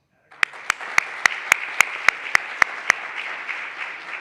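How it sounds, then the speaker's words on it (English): Applause at an eighth grade graduation ceremony, led by a few sharp, evenly spaced loud claps over a softer, steady spread of clapping from the gathered families. "She gets a round of applause."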